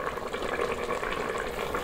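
Instant Pot beef stew is poured from the pot into a bowl over polenta, giving a soft, wet sloshing and bubbling that runs steadily and close for a couple of seconds.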